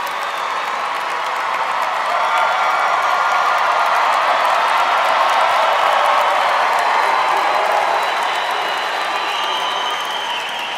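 A large graduation audience at the Northern Arizona University spring 2022 commencement applauds and cheers: a dense, steady roar of clapping with scattered shouts that holds loud and unbroken throughout.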